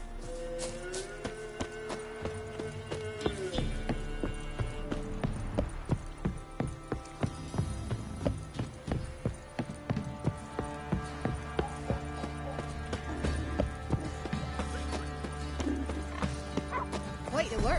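Roach the horse galloping in the Witcher 3 video game, a fast rhythmic clatter of hooves with an occasional whinny, quiet overall, with game voices talking over it.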